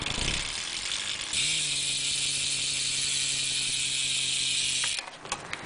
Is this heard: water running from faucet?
no